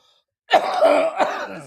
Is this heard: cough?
yes